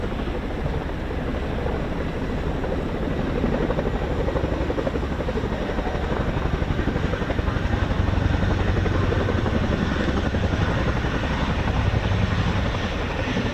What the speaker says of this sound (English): The RAF Chinook roll demo